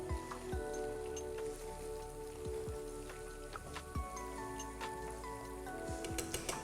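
Chicken broast fries in a pan with a dense, continuous sizzle like rain on a surface, dotted with small crackles and pops, close and steady throughout.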